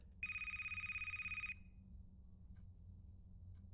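A telephone bell rings in a horror-style video game, a single bright, rapidly trilling electronic ring lasting over a second before cutting off, followed by low ambient hum and faint clicks.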